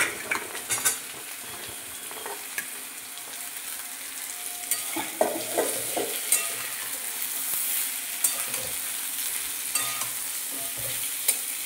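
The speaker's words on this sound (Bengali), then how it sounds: "মিক্স করে একটু ভাজা ভাজা মতন হয়ে যাবে।" Vegetables with red amaranth stems being stirred and fried in a pan for a Bengali bagan chorchori, a constant close sizzle with scraping stirs and occasional utensil knocks, no talking.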